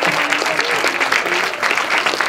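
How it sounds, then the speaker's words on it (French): An audience claps steadily and loudly at the close of a round-table conference on wildlife mediation, a dense continuous applause with a faint voice underneath. "et qu'on les applaudisse bien fort"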